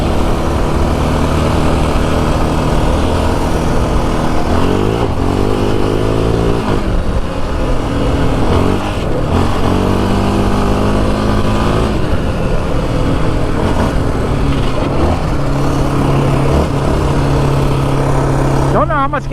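A Yamaha Raptor 700 ATV engine drones loudly and steadily while riding through the Arizona desert, with several revving surges, and a voice talks over the engine noise.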